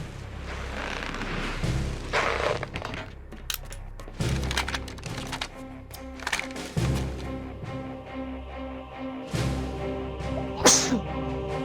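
A single quick sneeze bursts out near the end over a busy Metal Gear Solid 2 game soundtrack of clicks, thumps and steady music tones.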